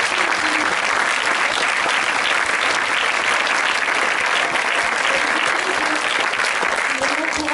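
Dense, steady audience applause at a French-language film event, loud and sustained for the whole stretch with voices murmuring faintly underneath.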